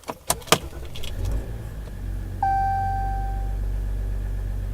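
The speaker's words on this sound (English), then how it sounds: "here we are. Here's startup." A Ram 1500 EcoDiesel truck heard from inside the cab: a few clicks and key sounds, then a chime as the diesel engine cranks and settles into a steady, low idle rumble.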